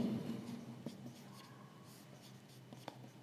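Chalk or marker writing on a board during a maths lesson makes faint, quiet scratches and short strokes in a low hum, with no talk.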